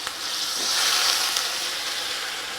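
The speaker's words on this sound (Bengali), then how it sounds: "এই ফুটন্ত জলটা এবার দিয়ে দিচ্ছি।" Boiling water poured into a pan of lotus stem keema curry, giving a steady broad hiss and sizzle that swells slightly midway and holds close and fairly loud throughout, with no talking.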